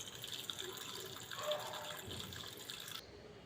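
Tap water runs steadily while a few local potatoes are washed in a kitchen sink, a soft continuous gush under a faint voice.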